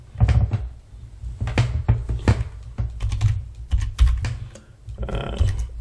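Rapid keystrokes clatter on a computer keyboard while someone types a database query, with close, irregular taps and short bursts continuing steadily with no talk.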